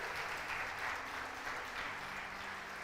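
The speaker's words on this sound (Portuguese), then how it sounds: "Você pode aplaudir ao Senhor, dar uma salva de palmas para Ele." A church congregation applauds during a sermon, a soft, distant, continuous patter of many hands clapping with no distinct individual claps.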